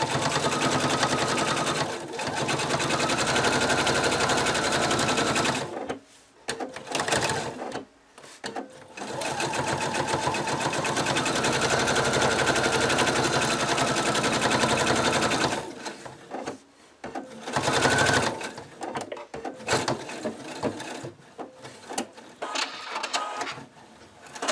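A sewing machine stitches steadily all the way around the wing of a cockatiel plushie, its loud rapid needle run going for long stretches with brief pauses between runs.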